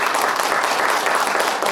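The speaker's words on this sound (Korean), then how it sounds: "여러분 큰 박수로 오늘 이 자리를 마무리하도록 하겠습니다" Close, dense applause from an audience closing a political party meeting, steady clapping throughout the short clip with no talk.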